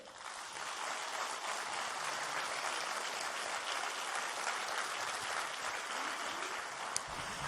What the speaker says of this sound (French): Mesdames, messieurs, applaudissements s'il vous plaît pour Alessandra Sublet.